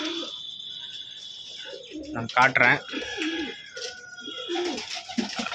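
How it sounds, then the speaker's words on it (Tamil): Pigeons in a loft coo softly and repeatedly, with a few chirps and wing flutters, close by, while someone talks over them. "நம்மக்கிட்ட என்னென்ன புறாக்கள் இருக்குதுன்னு வச்சுட்டு பார்ப்போம்"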